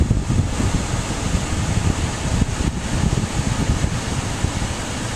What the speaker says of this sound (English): That's my air conditioner on maximum.